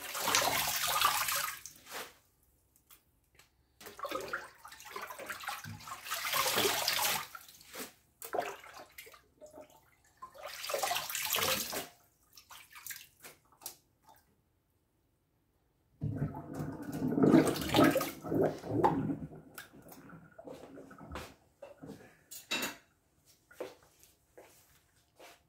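Water rushing and gurgling down a kitchen sink drain after mustard greens are washed, coming in several loud bursts separated by near silence.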